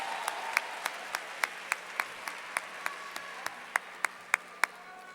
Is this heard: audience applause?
yes